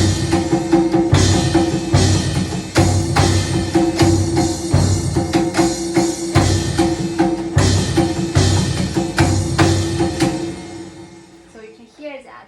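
Chinese percussion played on an electronic keyboard, panku drum and cymbals combined in a dense, loud rhythmic pattern of drum hits and crashing metallic washes, continuous for about ten seconds before fading out.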